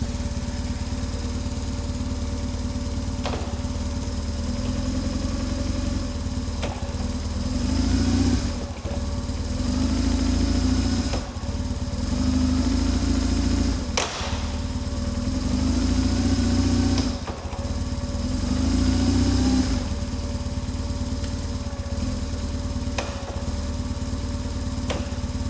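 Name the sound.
BMW GS motorcycle engine running while shifting through gears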